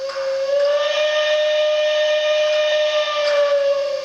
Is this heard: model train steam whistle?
yes